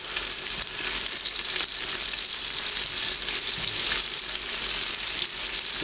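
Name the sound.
onions frying in oil with bay leaves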